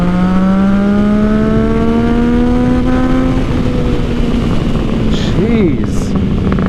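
Yamaha MT-09 motorcycle with a freshly flashed ECU revving up through the gears, a loud, close engine note rising in pitch then settling, with a brief blip near the end and a voice speaking over it.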